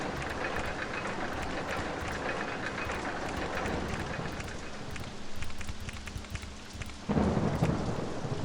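Heavy rain pours steadily in the OpenRCT2 theme park game while thunder rumbles underneath, swelling into louder crashes toward the end.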